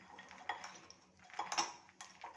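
Spoon clinking against a bowl while mixing roasted makhana chaat with chaat masala, a few light, scattered metallic taps and scrapes, faint and close, with no talk.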